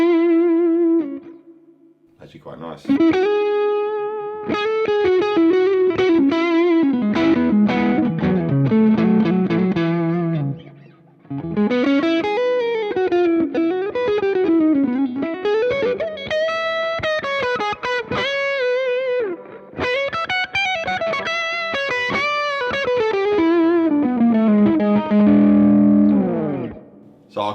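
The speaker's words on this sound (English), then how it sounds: "Just so you can hear a bit of overdrive with it again, the ultraphonics." An electric guitar played through a JK Amplifiers amp with Ultraphonics pickups and overdrive, sustained, gritty melodic lines ringing loudly and close, with a brief spoken comment partway through.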